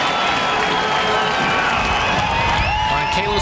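A stadium crowd at a Hawaii Warriors vs. Nevada Wolfpack college football game cheers after a touchdown, a loud, dense and sustained roar of shouting and applause that fills the whole moment.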